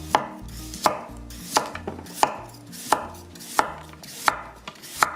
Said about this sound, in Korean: 당근을 썰어 보겠습니다. 당근도 채 썰기를 할 거예요.